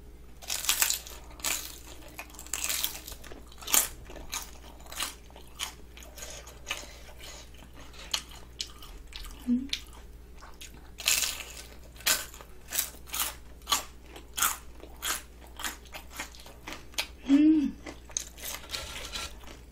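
Crispy sweet potato tempura bought at a market is bitten and chewed up close, giving repeated loud crunches and crackly chewing in a steady rhythm over a faint background hum.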